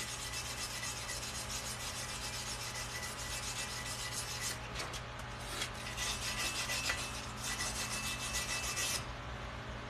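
Slag is scraped off a 3G 3/8-inch plate weld test with a backing strip, making a close, continuous rasping scrape that holds steady for most of the span before stopping near the end.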